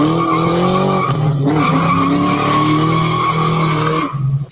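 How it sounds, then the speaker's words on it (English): A car with a deliberately loud exhaust revs hard while its tires skid and squeal, a continuous loud howl of engine and rubber that wavers in pitch for several seconds before easing off at the end. "So what's the appeal of an intentionally loud exhaust system?"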